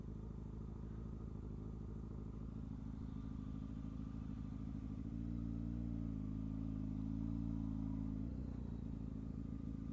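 A Honda CBR sport motorcycle idles in a drive-thru with a loud, close, steady low engine throb, its pitch wavering slightly midway before settling back.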